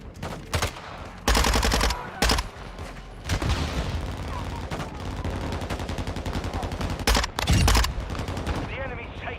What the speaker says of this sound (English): I'm taking effective fire!